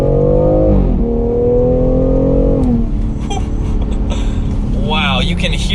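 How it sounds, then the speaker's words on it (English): A 2021 BMW X3 M Competition's exhaust roars loudly from inside the cabin, its tone sweeping up and dropping sharply at each rapid gear shift, with a crisp crackle between shifts while the engine keeps pulling hard. "you can hear those shifts. They're very smooth, but you can hear that exhaust in the shifts"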